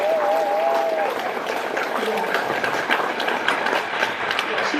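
Applause from a fundraiser audience, a steady wash of many hands clapping that fills the whole stretch, with a few faint tonal squeaks near the start.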